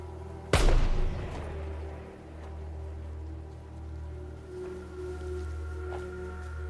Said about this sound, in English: whoever's firing that rifle, you're too close to residential